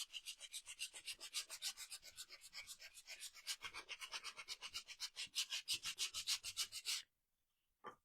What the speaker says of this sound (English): So all my little slats are sanded now.